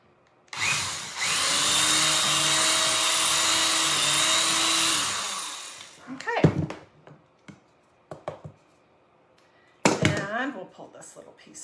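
A small power drill bores a hole in the side of a champagne cork, a steady high whine lasting about five seconds, followed by clunks, handling knocks and brief talking.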